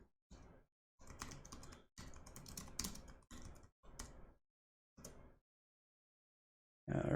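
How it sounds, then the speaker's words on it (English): Someone types on a computer keyboard in quick bursts of close clicking keystrokes separated by short pauses, with no one talking. "So let's just type it in again and see what happens."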